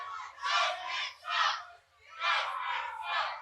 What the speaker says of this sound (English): And this crowd is aggressive.